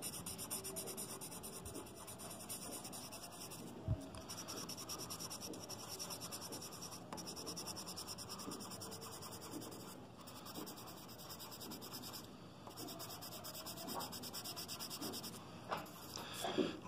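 A pencil or marker scratches and rubs quietly across paper while a dragonfly drawing is coloured in, with soft, continuous strokes and a few brief taps, close and faint.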